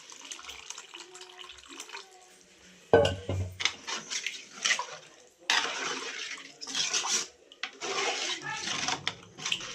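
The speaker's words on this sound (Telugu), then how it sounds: "చింతపండు పులుసు అయితే వేసేసి మిక్స్ చేద్దాం" Tamarind juice poured into a pot of fish curry and stirred in, a sudden liquid splash followed by irregular sloshing, scraping and clinking bursts, close and moderately loud with no talk.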